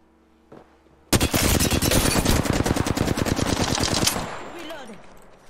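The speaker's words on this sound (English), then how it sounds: "Enemy spotted. Taking fire, Ross." Video game gunfire: a sustained, loud automatic burst of rapid shots lasting about three seconds, then fading into quieter ambience.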